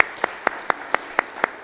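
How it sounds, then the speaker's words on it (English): A series of sharp, evenly spaced claps at a lecture, about eight in under two seconds, crisp and fairly close with no voices. "Give us a round of applause for that, please."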